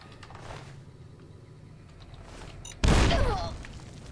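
A frag mine blows up in Fallout: New Vegas, Honest Hearts, with a sudden loud booming blast after a quiet stretch of ambient game noise, then a rumbling decay over several seconds.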